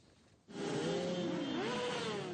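Protesting motorcyclists rev their engines on a road between Tulle and Brive; after a brief quiet moment a loud, sustained engine roar bursts in, with pitch rising and falling as throttles are blipped, close and continuous.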